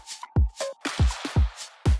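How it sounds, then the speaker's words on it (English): A clap layered with a hockey slap shot sample in a drum track, repeating sharp cracks with booming low thumps in an uneven rhythm, several hits within two seconds, loud and dry. "There's a big hockey slap shot"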